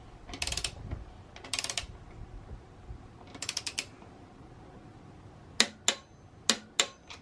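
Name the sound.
torquing supermoto rear axle nut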